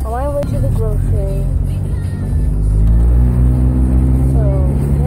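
Steady engine drone and road rumble from inside a moving car on the way to the grocery store, low and continuous throughout, with a person talking over it.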